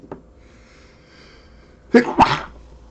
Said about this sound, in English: I've got really bad hay fever, so I may sneeze again